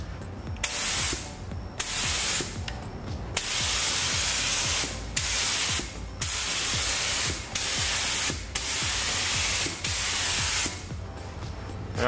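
A light coat of primer sprayed from an aerosol can onto a cracked car bumper in about eight steady hissing bursts of a second or so each, with short pauses between them, close and fairly loud, with no talking.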